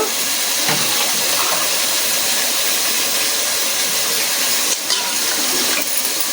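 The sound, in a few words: water being poured into a pot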